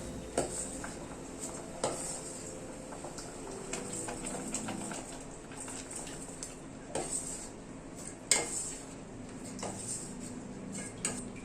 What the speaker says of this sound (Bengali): এবার আমি হাতাটা দিয়ে একটুখানি ঘুটে দিচ্ছি